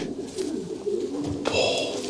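A racing pigeon coos in low, soft repeated phrases at close range in a UK loft, with some rustling and faint background noise and no talking.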